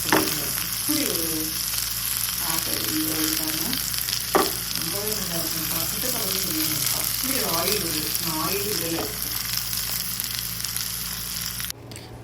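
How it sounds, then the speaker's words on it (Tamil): Salmon fries in its own rendered oil with no added fat, giving a loud, steady sizzle throughout as a voice talks over it before a brief drop near the end. "மீன் வறுக்கிறதுக்கு ஆயிலே விடலைங்க அதுலேருந்து ஆயில் அப்படி வருது"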